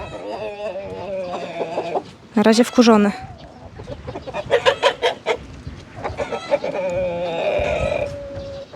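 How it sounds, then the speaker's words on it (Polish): Hens and a young rooster coming out into a farmyard, with repeated close clucks and squawks and a loud burst of agitated calling partway through, under intermittent talk. "O, kury wychodzą."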